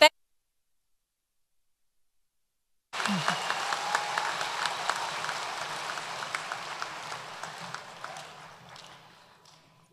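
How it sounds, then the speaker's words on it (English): After a silent gap, a graduation ceremony audience breaks into sustained applause for student musicians, a broad wash of many clapping hands that gradually thins out. "our student musicians need a little more applause."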